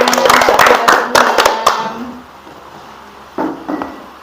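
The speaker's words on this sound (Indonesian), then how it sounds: "Oke, tepuk tangan" Group hand clapping during a counseling session with teacher trainees, a burst of loud, close, irregular claps for under two seconds, then near silence, followed by a couple of brief clap-like knocks near the end.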